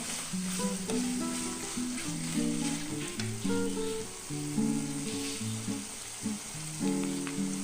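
Capsicum (bell pepper) frying in a pan while cooking capsicum rice, with a steady sizzling hiss throughout and a layer of tonal background music.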